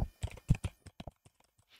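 Keys clatter on a computer keyboard as a search term is typed into a Windows search box, a quick burst of close clicks followed by sparser, fainter taps trailing off.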